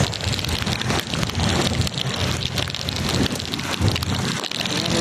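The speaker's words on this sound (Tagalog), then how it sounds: "Pati ng ulan, lakas." Dense, roaring downpour with gusting wind buffeting the microphone, loud and continuous throughout.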